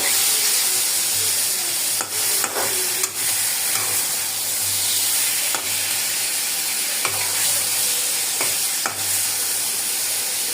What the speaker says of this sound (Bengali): ধুয়ে রাখা মাছগুলো দিয়ে দিব। আজকে রান্না করতেছি ট্যাংরা মাছের তেল ঝাল।